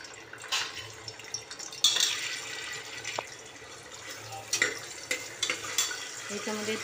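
A tempering of ghee and oil for masala rice with ginger-garlic paste, giving a quiet sizzle with stirring scrapes and clinks, soft and intermittent with a few sharper taps.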